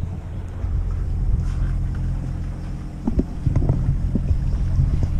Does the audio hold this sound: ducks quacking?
no